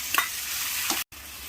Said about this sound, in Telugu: ఇలా కట్ చేసుకున్న టమాటోస్ వేసుకోవాలి